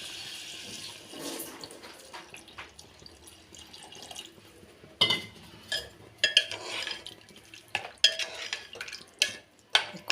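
Tamarind water poured into a cooking pot and stirred, with soft liquid swishing and splashing followed by irregular clinks of a spoon against the pot, close and fairly quiet, no voices.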